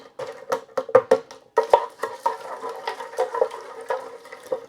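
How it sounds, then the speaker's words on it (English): Frozen vegetables being stirred into rice inside a Ninja Speedi cooker, a series of close, soft scraping and rustling strokes in quick bursts, with no talking. "Go ahead and give that a little stir."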